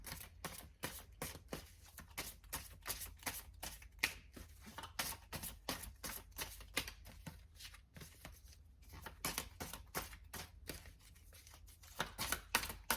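Tarot cards are shuffled by hand in a quiet room, a fast, continuous patter of soft flicks and riffles lasting several seconds with no talking.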